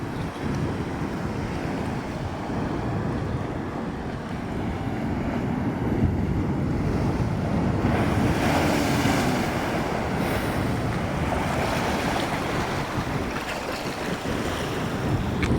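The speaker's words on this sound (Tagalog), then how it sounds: "Laki ng alon." Big ocean waves crashing on a rocky shore at Canhugas, a heavy continuous roar and surge that builds midway, mixed with strong wind buffeting the microphone, no talking.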